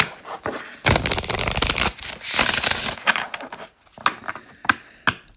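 Tarot cards being shuffled repeatedly up close, with bursts of riffling and crisp flicking, followed by a few sharper taps and snaps as the deck settles.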